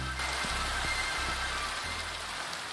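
Steady rainfall in the Minecraft video game, a continuous hiss of drops heard alone and evenly throughout, with a low looping hum beneath.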